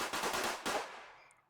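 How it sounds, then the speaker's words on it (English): Firecrackers burst in a rapid crackling volley at a Chinese New Year celebration, dense pops for about a second that then fade into a dying echo. "I hear firecrackers."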